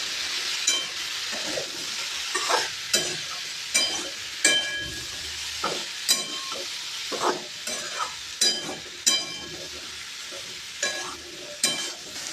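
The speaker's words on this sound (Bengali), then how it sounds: "চিংড়ি মাছগুলো ভাজছি।" Prawns crackle and sizzle in a hot pan while a utensil scrapes and stirs in repeated sharp strokes, close and fairly loud.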